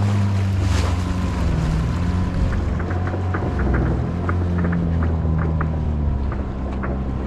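A small outboard motor boat out on the sea for net fishing off Denmark, its engine a steady, close drone with wind and water noise around it throughout.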